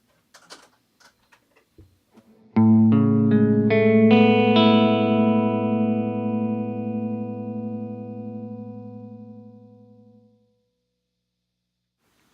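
An electric guitar plays a quick run of notes that blur together through delay and reverb, ringing out in a long, fading wash into silence.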